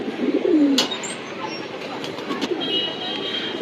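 A white male pigeon lets out one short, throaty coo near the start, followed by a low, steady hum of background noise and faint distant sounds.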